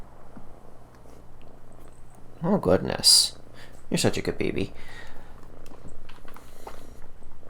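A cat purrs loudly and close by, a steady low rumble running under a person's affectionate talk, with a couple of louder bursts partway through.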